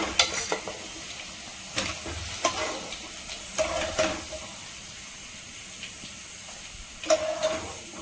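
Roasted brinjal tossed with masala fries in a pan, a soft hissing sizzle broken by occasional clinks and scrapes of a stirring spoon, heard up close and alone.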